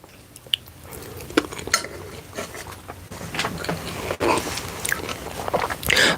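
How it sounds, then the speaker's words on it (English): Chewing food close to the mic during an ASMR livestream, soft wet bites and crunches scattered irregularly across the clip with faint clinks, no talking. "I'll try to keep chewing to a minimum."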